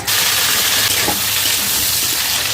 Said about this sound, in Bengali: তেল দিচ্ছি, কালো জিরা ফোড়ন দেবো। এবার আমি সবজিটাকে ছাড়বো।